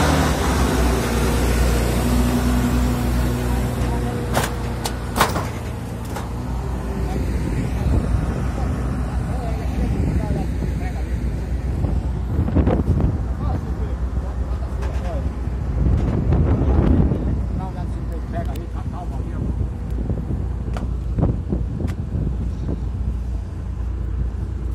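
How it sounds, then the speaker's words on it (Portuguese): Strong outdoor wind roars and buffets the microphone throughout, with gusty low rumbling swelling and easing over about twenty-five seconds while someone talks intermittently. "tá ventando um pouco aqui,"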